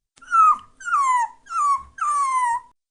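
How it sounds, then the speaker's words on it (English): A dog whines in four drawn-out, high-pitched cries, each falling in pitch, with short pauses between them. "The dog is whining."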